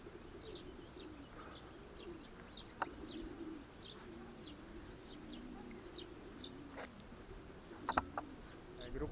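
Racing pigeons cooing and chirping outdoors over steady background rumble, with a few brief sharp wing claps or calls standing out.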